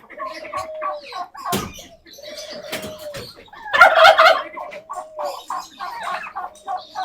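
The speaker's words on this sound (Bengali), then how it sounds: "এটা হচ্ছে একটা রেড বার্বন টার্কি" A Red Bourbon turkey, a young male, gobbles in a cage in loud repeated bursts, its rattling calls recurring several times over a few seconds, with other bird chirps and faint clucks around it.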